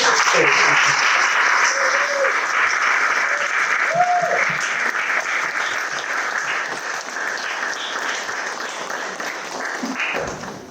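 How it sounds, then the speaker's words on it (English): A large crowd at a panel discussion applauds continuously, dense steady clapping that fades slightly toward the end, with faint voices underneath. "A round of applause."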